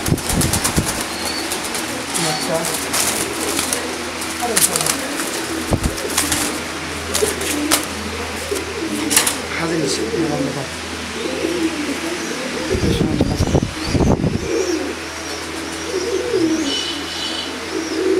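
Pigeons kept in a sale loft coo repeatedly at close range, with occasional wing flaps and chirps and a voice speaking now and then amid the birds.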